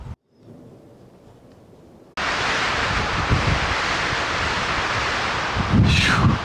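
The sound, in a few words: wind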